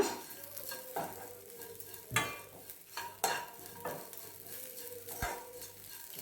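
Grated coconut with asafoetida sautés in a pan for a curry-leaf chammanthi, with quiet sizzling under repeated scraping strokes of a spoon and occasional sharp clinks against the pan.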